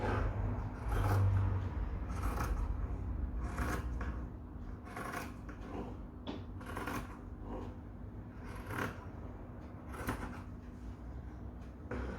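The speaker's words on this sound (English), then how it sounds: "So I'll start the cutting." Scissors cut fabric pattern pieces for an apron, with rhythmic, fairly close snipping and crisp shearing strokes repeated steadily throughout, over a low rumble that fades after the first few seconds.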